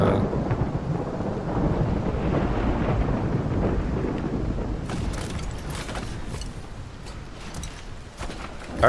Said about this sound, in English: Apparently it's a thunderstorm.